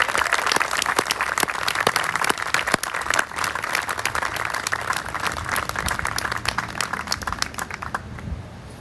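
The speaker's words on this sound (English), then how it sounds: "let's give Jerry another round of applause" An audience at a 2021 Memorial Day ceremony claps in a sustained round of applause, dense crisp hand claps that stay strong before thinning slightly toward the end.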